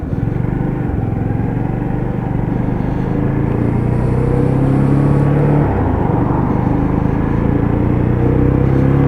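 Lexmoto ZSB motorcycle riding in traffic, a steady close engine drone with whirring and wind noise throughout, engine note shifting slightly as it runs along the road.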